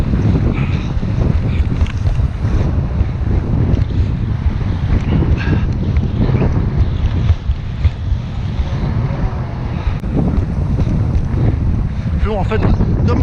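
Strong gusty wind buffets the microphone while kitesurfing near a seawall and houses, with a loud continuous roar and surging gusts over water and board noise. A faint voice may be present.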